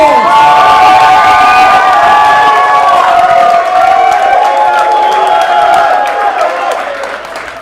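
A large comedy-competition crowd cheers and shouts loudly and continuously, with scattered whoops, fading slightly at the end.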